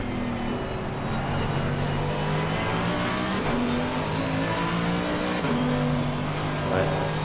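Race car engines drone steadily at Silverstone in Assetto Corsa Competizione on a wet night, the pitch shifting as the cars accelerate and brake. Commentary runs over the engines.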